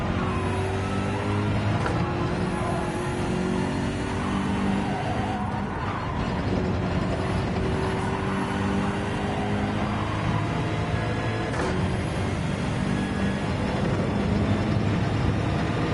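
Race car engines in Gran Turismo 7 drone steadily in a dense, continuous roar, with shifting tones and brief gear-change breaks, loud and unbroken throughout, with no talk.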